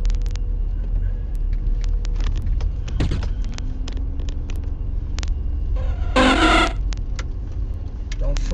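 A car rumbles past on a street outdoors, its steady low drone filling the background while a person talks, with a brief louder swell near the end.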